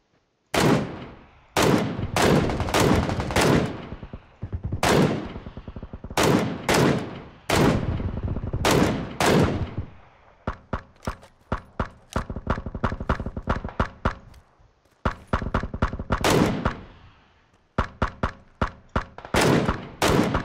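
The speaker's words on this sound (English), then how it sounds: "Somebody's shooting at me" Gunfire from a PUBG battle crackles in repeated loud, close bursts and rapid automatic volleys, broken by short pauses and scattered single shots.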